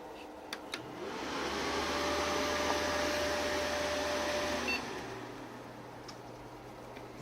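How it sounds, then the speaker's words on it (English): Steady whirring hum from the fan of a Dell Inspiron 530s desktop computer, a broad continuous drone holding at even loudness with a few faint clicks near the start and a slight drop after the midpoint. "Nice fan whirring away there"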